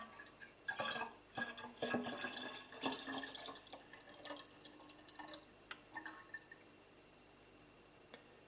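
Honey mixture poured into a batch of mead, giving soft trickling, dripping liquid sounds in short bursts that fade toward the end, fairly quiet and with no talking.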